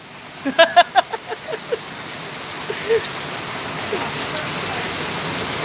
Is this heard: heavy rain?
yes